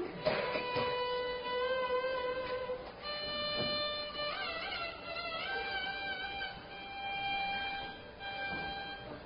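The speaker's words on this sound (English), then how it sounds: "then the scale of Shankaravarnam would sound something like this" A faint, thin melodic line climbs through the Shankaravarnam scale note by note from Sa on G, each pitch held briefly in turn, with no talking.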